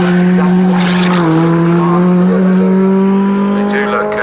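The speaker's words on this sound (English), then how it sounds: "Such is the nature of this awesome pickup truck racing." Pickup trucks race around the Snetterton circuit, engines droning loudly with a steady high tone that shifts pitch as they sweep through corners, a commentator talking over the roar.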